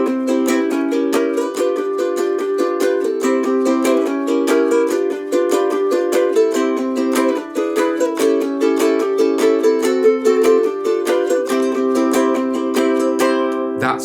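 Close, loud solo ukulele plays a song with rapid strumming, dense even chord strokes running without a break through changing chords and no talking.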